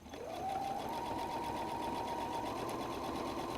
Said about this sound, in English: now I'm going to baste across that stitching line right there, that half-inch stitching line